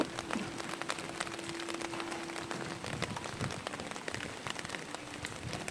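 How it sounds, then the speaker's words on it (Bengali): Steady rain pours down on a rooftop in a dense, continuous hiss with scattered sharper drop impacts, fairly close and with no talking. "যা বৃষ্টি শুরু হয়েছে মনে হচ্ছে না কমবে দু চার দিনের মধ্যে"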